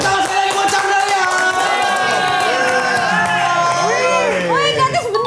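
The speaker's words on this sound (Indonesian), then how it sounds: "Tepuk tangan sekali lagi buat Chandra Liau." A studio audience at an Indonesian talk show cheers loudly, with whoops and shouts rising over the steady crowd noise.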